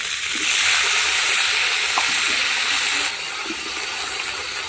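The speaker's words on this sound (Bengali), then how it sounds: "দিদি এবার বিনসগুলো ভেজে নিচ্ছে" Beans sizzle in hot oil in a pan with a loud, steady hiss that runs throughout, and a few faint stirring clicks sit underneath.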